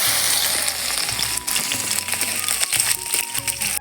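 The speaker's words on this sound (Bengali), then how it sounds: "এবার দেবো থেতো করা রসুনগুলো" Crushed garlic sizzles in hot oil alongside dry red chillies and nigella seeds, a moderate frying hiss broken by faint clinks and a few tonal kitchen sounds.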